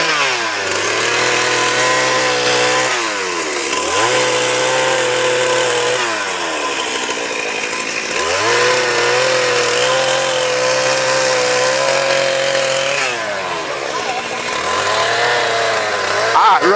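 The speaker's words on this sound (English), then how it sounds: "obviously a chainsaw is working at a very high speed, so it creates heat" Chainsaw cutting rhino horn during a dehorning, loud high-pitched whine that repeatedly bogs down and revs back up in cycles every few seconds, close up and alone.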